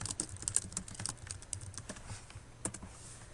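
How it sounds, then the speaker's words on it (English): Typing a title on a computer keyboard: soft, quiet clicks in a loose, irregular rhythm with a faint low hum underneath and no talk. "so let's go back and type that in"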